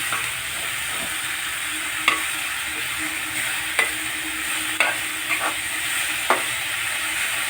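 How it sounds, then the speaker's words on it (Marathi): Dill greens sizzle steadily in a hot pan with garlic and chilli tempering while a spatula scrapes and stirs every second or so. "लसूण आणि मिरचीच्या फोडणीवर आपण शेपूची भाजी टाकली"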